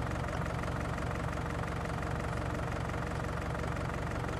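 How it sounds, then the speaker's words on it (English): A John Deere tractor engine runs steadily while driving a mowing disc on a farm, a continuous low rumbling drone with no break in level and no voices. "the tractor still has that same noise. It should be revving really hard to keep that mowing disc moving as it should be"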